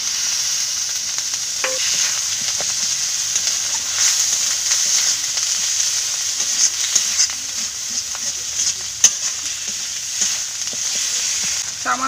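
Chilli powder, turmeric and chopped tomato sizzling in a pan for a bottle gourd dish, a steady close hiss of frying with scattered stirring scrapes and taps throughout.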